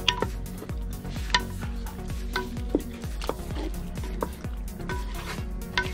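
Kabiri rice being stirred after orange juice is added, a close series of scraping, clinking utensil strokes against the pot in an uneven rhythm over a faint sizzle, with no talk.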